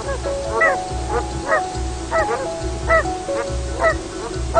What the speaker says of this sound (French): D'autres oies du voisinage s'agitent et ajoutent leur voix au concert strident qui s'élève du marais.